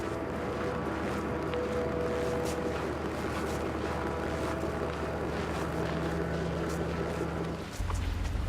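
A fishing boat's engine runs at sea, a steady low droning rumble with wind and water wash over it, loud and continuous, then a shift in tone near the end.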